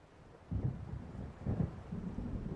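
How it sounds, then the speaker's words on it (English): Approaching-storm thunder in the video game Alan Wake: low, deep rumbles that swell twice and then roll on, distant and muffled, with no voices. "It seems there's a storm coming."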